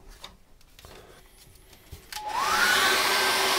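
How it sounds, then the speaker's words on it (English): A few soft knocks and shuffles, then a hairdryer switches on, drying acrylic paint on a seascape painting with a loud, steady whooshing roar to the end. "I'm just going to dry that off with a hairdryer."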